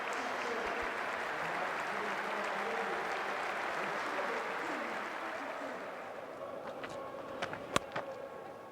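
A cricket crowd at the fourth Ashes Test between Australia and England applauds a 116-run innings: a dense, sustained wash of clapping that holds steady, then thins toward the end with a few sharper individual claps standing out.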